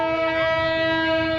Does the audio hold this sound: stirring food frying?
no